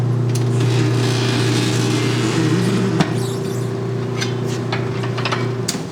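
A tire changer machine's turntable rotates steadily with a constant mechanical hum and squeak, a sharp clack near the middle, and faint background clatter.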